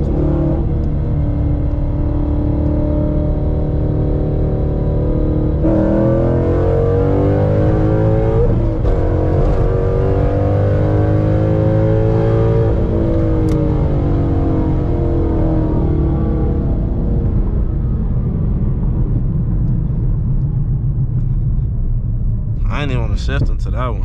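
A Ford Mustang GT engine climbs through the revs in a driver's-seat view, its rising tones sweeping upward, then shifting to a new gear and climbing again under steady rumble, with someone talking over it.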